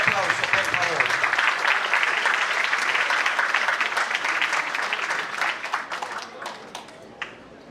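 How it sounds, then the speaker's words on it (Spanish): Loud, sustained applause from an audience at an evening tribute event, with dense clapping holding steady for several seconds before thinning out and fading toward the end. "con un fuerte aplauso, por favor"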